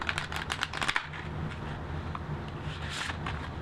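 Plastic-coated healing oracle cards are shuffled by hand, giving quick, soft flicking and riffling clicks in close, quiet bursts over a low background hum.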